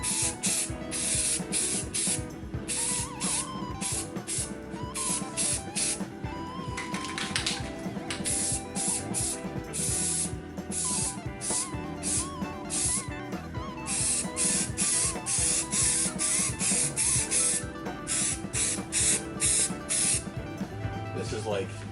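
A spray can of primer hissing onto a helmet in repeated bursts of varying length, close and loud, with someone talking over the spraying.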